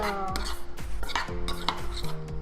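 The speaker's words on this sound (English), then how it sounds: "add our baking soda, just a little bit at first to each, and then we will stir" A baking soda and slime mixture being stirred in a bowl, giving close, repeated scraping and clinking of the utensil against the dish in an uneven rhythm, with no voices.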